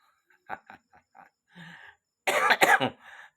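Several short throat-clearing sounds build into a harsh, loud cough burst, close to the listener, then trail off.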